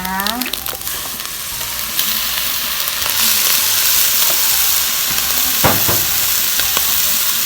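Chiang da greens being stirred in a hot frying pan with sugar and fish sauce, a steady close sizzle and frying hiss running throughout, with scraping stir strokes on the pan, no talk.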